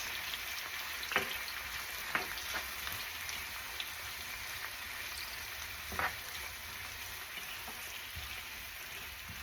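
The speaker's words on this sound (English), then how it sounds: "just let everything simmer a little bit" Ackee and saltfish with vegetables simmering in a pan, a steady soft sizzle with a few louder pops and stirring clicks, no talk over it.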